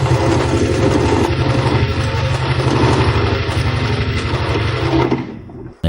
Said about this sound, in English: here we can see how it sews in a straight stitch